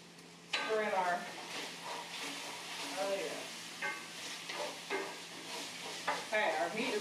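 Ground meat is stirred in a big frying pan, a spoon scraping and pushing through it over a soft continuous sizzle, with close clanks and scrapes recurring throughout.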